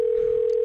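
A phone dial tone drones as one loud, unbroken note with nothing else over it, heard while a call is being placed.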